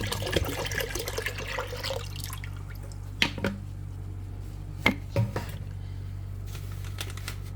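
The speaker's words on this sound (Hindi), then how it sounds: "साथ में डाल रही हूँ दूध" Milk splashes into a cooking pot in a home kitchen for about two seconds, a soft liquid rush followed by a few faint drips and clinks against a steady background hum.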